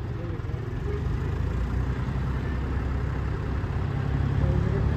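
A tractor fitted with a new potato machine idles nearby, a steady low diesel rumble holding level throughout with no talk over it.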